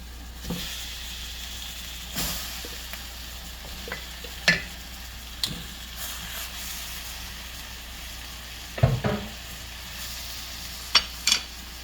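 Skinless chicken pieces sizzle steadily in a hot pan, a continuous frying hiss broken by several loud scraping stirs and clanks of the utensil, close by with no talking.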